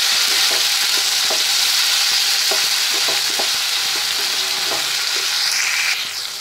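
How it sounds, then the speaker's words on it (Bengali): Chopped tomatoes sizzle steadily in a hot pan for an egg curry, with soft intermittent scrapes and taps of stirring, close and continuous throughout. "এবার আমি কেটে রাখা টমেটো দিয়ে দিচ্ছি।"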